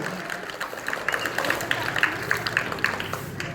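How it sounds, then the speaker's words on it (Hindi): Studio audience gives a round of applause for a contestant's correct answer on a Hindi general-knowledge quiz, a steady patter of claps under a thin layer of background murmur. "प्रेमलता कुमारी के लिए एक जोरदार ताली होना चाहिए।"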